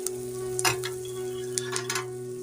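Onions and turmeric fry in a pan, producing a steady close sizzle over a low hum, with several short stirring scrapes.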